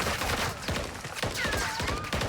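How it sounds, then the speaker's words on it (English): Rapid bursts of gunfire ring out in a Call of Duty MW3 multiplayer match, several sharp shots in quick rhythm over a loud, busy game mix. "You can shoot me, Tennessee, whenever you can"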